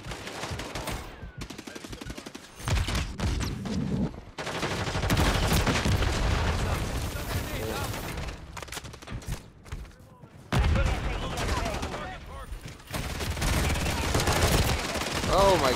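Gunfire in a Call of Duty hardpoint match, with bursts of automatic shots and loud blasts coming in waves, broken by brief near-silent gaps, under occasional talk.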